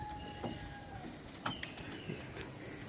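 Pigeons coo on a rooftop in Lahore, soft low calls repeating at a moderate distance over steady outdoor background noise, with a few brief louder bursts.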